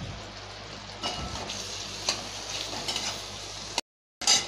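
A rohu fish head fries in a pan, giving a soft, steady sizzle at low level with a few faint stirring scrapes, and a brief silent gap near the end.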